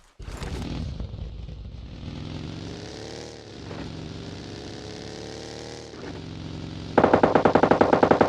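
Rapid bursts of gunfire in the PUBG Mobile Lite battle game ring out over a droning vehicle or aircraft engine, with a loud, dense volley of automatic shots near the end.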